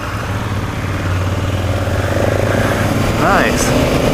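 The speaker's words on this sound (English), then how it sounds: "It is a 2001 F650GS, and she's gonna go left." A 2001 BMW F650GS motorcycle engine drones steadily and close as a rider sets off, a continuous low hum with slight rises in loudness, while faint voices may sit underneath.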